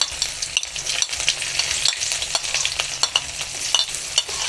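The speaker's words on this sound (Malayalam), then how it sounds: "ഇനി നമ്മളിവിടെ എടുത്ത് വെച്ചിരിക്കുന്ന നമ്മുടെ സബോളയും തക്കാളിയും എല്ലാം നമുക്ക് ഇതിനകത്ത് എടുത്തിട്ടൊന്ന് വഴറ്റിയെടുക്കാം" Onion and tomato sauté in sunflower oil in a pan, giving a steady close sizzle broken by frequent scraping stirs and soft clacks, with no voices.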